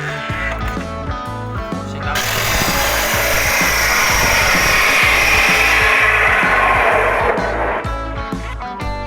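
An iron pipe left over from a main axle is cut into two equal lengths with a power tool while building a pull-up bar from bicycle handlebars. A loud, steady grinding-saw roar runs for several seconds, with tool knocks before and after.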